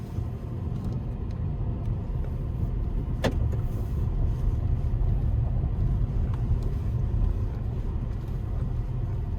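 Inside a Peugeot e-208 electric car pulling away, a steady low cabin rumble of road noise fills the space, with one brief click partway through and no talking.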